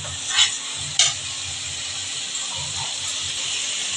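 Ginger, onion and garlic stir-fry in oil for a duck egg curry, a steady low sizzle with two brief scraping stirs near the start, then continuous even frying hiss with no talk.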